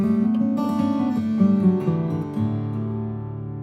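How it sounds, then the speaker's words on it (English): Acoustic guitar in DADGAD tuning plays a cross-string, harp-style scale, with ringing overlapping notes sustaining into one another in a steady, close, solo run with no talk. "cross-string playing, or sometimes called harp style"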